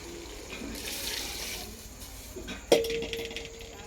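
Water runs into a cooking pot with a steady splashing flow, then a sharp metallic clink rings out near the end, all close by.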